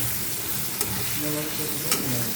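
Vegetables being stirred in a frying pan for a spicy drumstick (shevga) curry seasoned with salt, turmeric and masala, with a low steady sizzle and two brief scraping strokes of the spoon.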